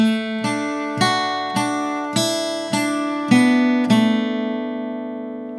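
Acoustic guitar picks the second phrase of the old-time tune 'Ducks on the Millpond', seven evenly spaced plucked notes ringing close and clear, the last one left to sustain and fade, with no talking.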